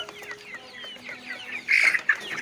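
Joper chickens on a farm clucking and squawking, several birds near the listener with a louder burst of cackling toward the end, no talk.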